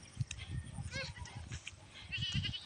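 Goats on a farm bleat several times in short wavering cries at a moderate distance, over steady outdoor rumble and light handling noise.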